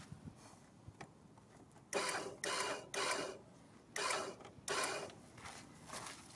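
An electric actuator on a sleeve hitch fitted to a Cub Cadet GT2544 garden tractor extends its arm in short motor bursts, five or six buzzing whirs of under a second each with brief quiet gaps between.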